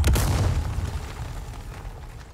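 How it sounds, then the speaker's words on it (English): A grenade blast in the Resident Evil 4 Remake video game lands as a heavy, close boom at the start, then decays into a long rumbling tail over about two seconds. No speech is heard. "can I throw a grenade over it?"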